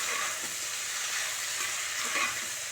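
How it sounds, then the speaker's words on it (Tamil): Cauliflower and tomato fry on a low flame with a steady, close sizzle, while soft stirring scrapes through the pan and nobody speaks. "காலிஃப்ளவர் தக்காளி இது எல்லாத்தையுமே நல்லா கொஞ்சம் லோ ஃப்ளேமில் வச்சு நல்லா கிளறி விட்டுடலாம்"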